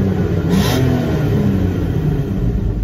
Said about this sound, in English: Does sound good, this 6-cylinder.